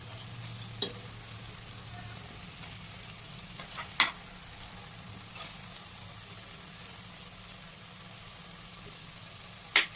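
Paneer tikka roasting in a pan on a high-to-low flame gives a soft, continuous frying sizzle, with a few sharp clicks or scrapes of turning, close and fairly quiet.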